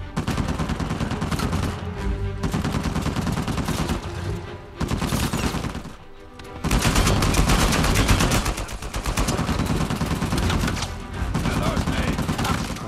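Rapid, loud bursts of gunfire aimed at tires during a wild chase in the video game Uncharted 4, with dense volleys broken by a short lull midway before the firing resumes.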